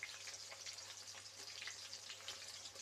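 Soybeans fry in a pan over a low flame, giving a soft, continuous crackling sizzle with faint pops, quiet and close throughout.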